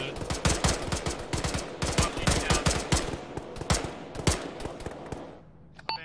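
Rapid automatic gunfire and scattered single shots in an ArmA squad battle, loud bursts of sharp cracks in quick succession, thinning out toward the end, with voices talking underneath.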